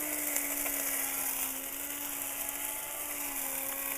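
A small home spice mill whirs steadily at high speed, grinding roasted spices for Ceylon curry powder, a continuous close motor whine with no pauses.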